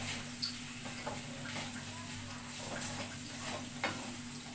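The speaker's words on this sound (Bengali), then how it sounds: "দিয়ে আমি ভালো করে মশলাটাকে ভাজা ভাজা করে নেব।" Ginger garlic paste fries with spices in a pan, a steady soft sizzle broken by occasional light taps and scrapes of stirring.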